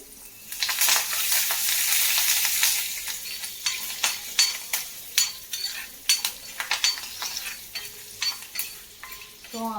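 A tempering with curry leaves fries in hot oil with a steady crackling sizzle, broken by repeated sharp scrapes and clinks of a spoon stirring in the pan, close and alone with no voices.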